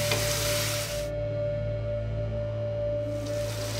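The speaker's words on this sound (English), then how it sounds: "We're going to then lower the heat, not to a simmer, above a simmer, and then we're going to let this go for about 6 to 7 minutes." Beef and tomato sauce simmers in a pan with a steady, soft sizzle and bubbling hiss that carries on without a break, close up, with no talk over it.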